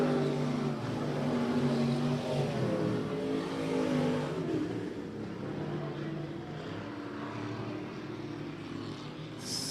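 Stock cars race on the slick I-37 Speedway track, their engines roaring and revving in a steady, loud, overlapping drone that rises and falls as the cars pass, with no talking.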